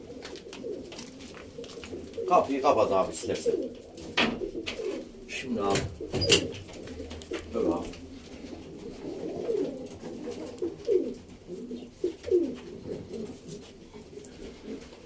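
Pigeons coo in low, soft repeated calls nearby while someone speaks briefly, with some knocking and handling noises in the background.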